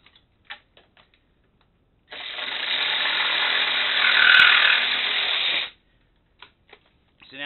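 A power saw cuts through a length of metal track railing in one continuous pass of about three and a half seconds, loud and harsh, with scattered light clicks and handling noises before and after.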